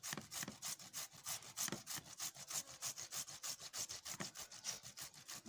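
Food rubbed back and forth over a hand grater during African village meal preparation, a steady rhythm of rasping strokes, close and moderately loud with no talking.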